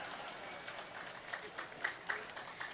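Scattered, fairly thin audience applause at a Tamil public speech, a spread of quiet claps with a few sharper hand strikes standing out, without voices over it.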